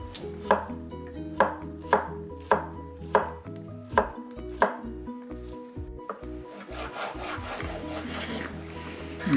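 Knife chopping beef into chunks for Cajun-style stew on a cutting board, with about seven evenly spaced sharp thuds, close and crisp, followed by softer scraping and shuffling sounds; no talk.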